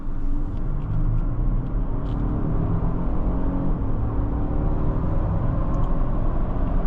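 A 2025 Lexus LX 700h F Sport SUV driving hard in Sport Plus mode, heard from inside the cabin as a steady, loud, deep rumble of engine and road noise that holds evenly throughout, with no talking.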